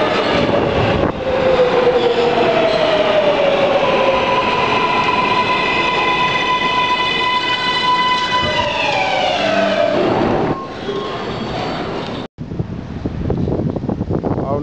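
A train carrying Super Bowl fans toward New Jersey rumbles loudly and steadily, with long rising and falling tonal whines like a horn or wheel squeal, then cuts abruptly to quieter ambient rumble near the end.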